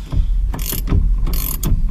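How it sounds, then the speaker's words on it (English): A long-arm ratchet loosens a 19 mm steering wheel nut on a 240SX S13, giving several loud, close bursts of rapid clicking in quick succession. "This nut's a 19 mil. It shouldn't take a lot of force to get it out of there, and this is a pretty long arm ratchet."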